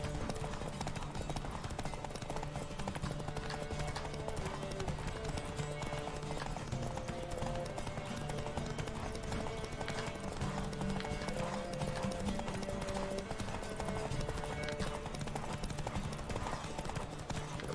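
Rapid, rhythmic hoofbeats of a galloping horse in a race in the video game The Witcher 3: Wild Hunt pound steadily throughout, loud and close, with occasional vocal sounds mixed in.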